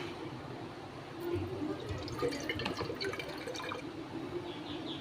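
Water poured into a mixer jar holding soaked rice, a continuous splashing trickle with dripping, running for several seconds and swelling slightly midway, close by and without talk.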